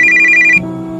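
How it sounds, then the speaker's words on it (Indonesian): A telephone rings with a bright electronic trill for about half a second before the tone drops and shifts to a lower, steady hum, heard close and loud with no talking. "Wah, ada telepon."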